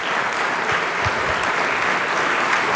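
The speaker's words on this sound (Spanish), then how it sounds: "muchísimas gracias, el aplauso" An audience at a national conference session claps in warm, sustained applause, a dense and even patter of many hands without voices, holding at a steady level throughout.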